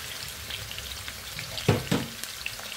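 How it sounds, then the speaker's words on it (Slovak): Stuffed pork loin browning in a hot pan, a steady close sizzle and crackle with two sharper spitting bursts partway through as the meat is moved, no voices. "Takže tak oprážime."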